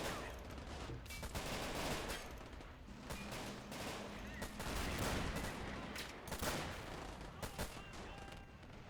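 Video game battle in a realism tournament match, with dense machine gun bursts and heavy mortar blasts crackling and booming almost continuously, loud and chaotic throughout.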